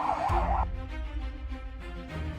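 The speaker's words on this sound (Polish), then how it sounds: "Usłyszałem syrenę, to przebiegłem." A fire engine siren from a Lego cartoon wails briefly at the start, then cuts off, leaving low rumbling engine-like sound underneath.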